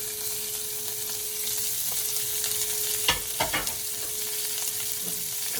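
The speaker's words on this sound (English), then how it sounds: "the good old sizzle." Diced onion sizzles in a pan with spices, a steady bright frying hiss with a few sharp stirring scrapes around the middle and a faint constant hum underneath.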